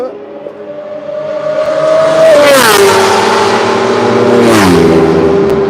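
A BMW race car roars past on a circuit, its engine note climbing loud and close, then dropping in pitch as it passes, with a second sweep of revs and a faint voice underneath.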